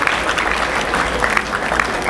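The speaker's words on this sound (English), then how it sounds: "another round of applause for Professor." An audience at an Efik National Association convention in Houston applauds a university vice chancellor, a steady, dense round of clapping from many hands, loud and continuous with no talking over it.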